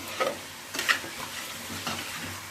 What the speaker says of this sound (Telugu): వేపాలి. అప్పుడు మసాలా ముక్కలు బాగుపడుతుంది.